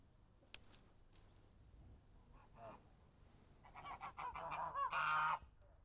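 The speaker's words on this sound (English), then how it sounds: "Geese are the ideal bird for the small farmer" Geese on a small farm, honking in a cluster of loud nasal calls that build toward the end after a few faint clicks and quiet moments.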